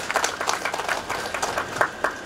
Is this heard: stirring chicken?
no